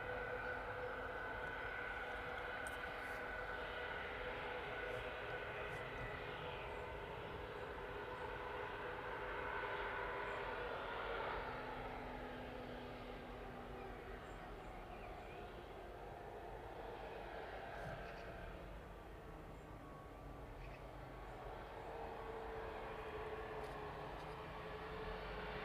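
A jet aircraft taxiing toward the runway at East Midlands Airport in the evening, a sustained distant engine whine and rumble that rises and eases gradually, with no voices.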